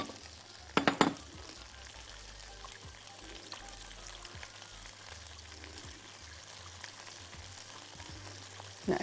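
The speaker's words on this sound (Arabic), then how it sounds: "نقلب كويس" A sauce of broth, milk and flour fried briefly in ghee is stirred steadily in a pan, giving a continuous low sizzle and scraping with a few sharper clinks near the start.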